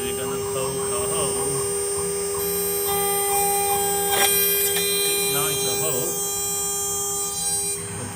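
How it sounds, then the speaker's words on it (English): CNC spindle of a FlatCUT oscillating blade cutter running, a steady electric hum with a bright motor whine, close and constant throughout. "we start the spindle"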